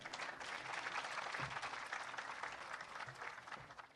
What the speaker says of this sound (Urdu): اور اب آپ سب کی تالیوں میں، بھرپور تالیوں میں